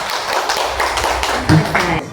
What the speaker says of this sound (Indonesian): Tepuk tangan yang meriah untuk kita semua